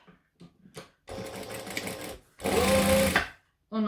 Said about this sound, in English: I'm just gonna top stitch,